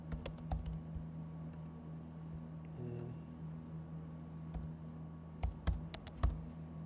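Fingers type on a computer keyboard during a word-guessing game, with faint, quick bursts of key clicks near the start and again toward the end over a low steady hum.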